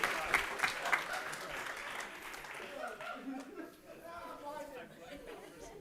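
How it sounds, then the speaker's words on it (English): A conference audience at an improv comedy talk gives a round of applause that starts loud and fades, mixed with chatter and a few chuckles as voices take over. "how about a big round of applause for them?"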